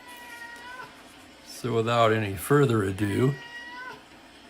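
A pet cat meows loudly and repeatedly in a drawn-out series of calls close by, with a voice speaking over the noisy background at the start.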